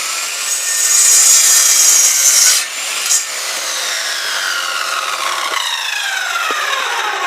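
A hand saw cuts through a wooden plank in steady, close, loud back-and-forth rasping strokes that ease off partway, with the blade scraping on alone and no one talking.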